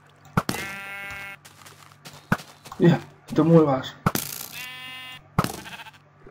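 Sheep in a video game give several nasal, wavering bleats close up, with a sharp click and thuds between them and someone speaking Spanish briefly in the middle.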